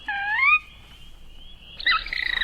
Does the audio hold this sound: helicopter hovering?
no